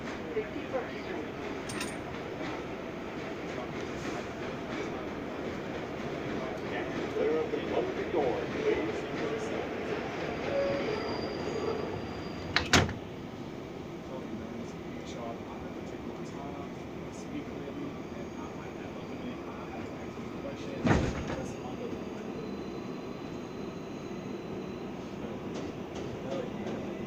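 R188 subway car on the 7 Express line in New York running toward Flushing Main Street, a steady low rumble of the moving train with two sharp clanks partway through, heard from inside the car.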